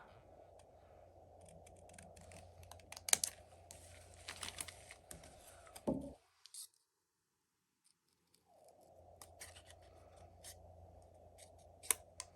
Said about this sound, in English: So we can just cut this right off of here